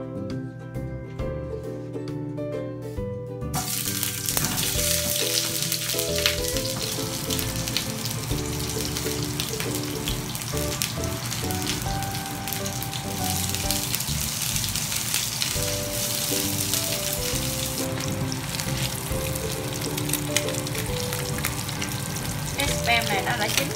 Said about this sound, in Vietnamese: mình sẽ chiên lên cho nó giòn giòn, nó thơm thôi.